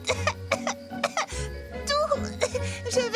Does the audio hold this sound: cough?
yes